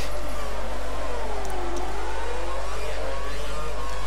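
F1 race car engine from the F1 2012 video game, a steady high-pitched whine that sweeps down and back up as it accelerates, loud and continuous throughout without any talk.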